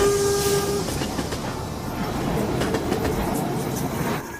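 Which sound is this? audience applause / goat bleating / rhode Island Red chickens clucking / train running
train running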